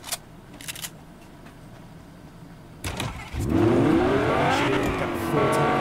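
A Fortnite car engine starts up partway through and then runs loud and steady, with rising revs, after a few quiet clicks and a short rustle.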